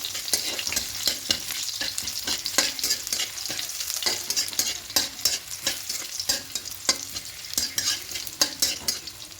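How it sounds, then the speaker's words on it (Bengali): Crushed garlic and torn dried red chillies fry in hot oil with a bright, crackling sizzle, overlaid by frequent quick clicks and scrapes of a spoon stirring in the pan. "দিয়ে একটু রসুনটা লাল করে ভাজবো।"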